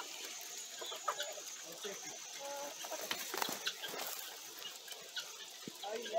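Chickens on a farm in the countryside cluck and call in brief bursts over a steady outdoor background, with a rooster's crow faintly mixed in and no talk.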